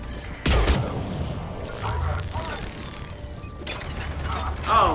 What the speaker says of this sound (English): Oh, good grenade throw.